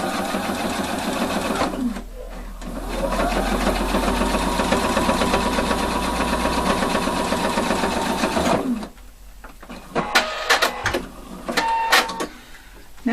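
Sewing machine stitching a jeans button fly, running in a fast steady whir for several seconds after a brief burst, then stopping, followed by scattered clicks and handling noises of fabric and parts.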